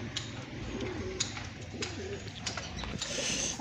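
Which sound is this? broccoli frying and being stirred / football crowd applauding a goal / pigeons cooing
pigeons cooing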